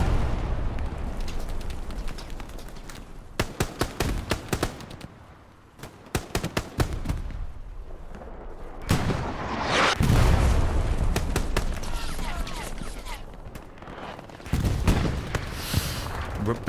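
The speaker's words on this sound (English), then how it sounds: "Oh, the artillery is dialed in." Artillery shells land and explode in Hell Let Loose, a World War II shooter: a barrage of sharp, loud booms and cracking blasts arrives in dense clusters, with rumbling explosions rolling in close and heavy between the bursts.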